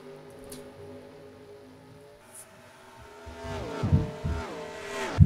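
Stock cars racing in the NASCAR Racing 2004 video game, engines droning in a steady layered hum that swells louder with throbbing bursts near the end as a pack of cars collides and spins.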